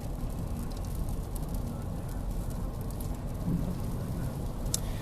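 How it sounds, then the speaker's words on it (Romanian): Rain falls outdoors as a continuous, even hiss of dense drops at steady loudness, with no voices heard. "Aici plouă."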